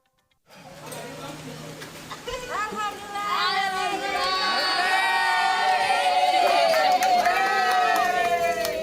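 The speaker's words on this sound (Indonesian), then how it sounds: "Sorak-sorai dan ucapan syukur warga di Gampong Kapa, Kecamatan Pausangan, Kabupaten Biren, Aceh pecah saat listrik kembali menyala" Villagers in Gampong Kapa, Peusangan, Bireuen, Aceh, cheering as the electricity comes back on after a disaster: a sudden loud swell of shouting, children's voices and excited chatter that stays strong to the end.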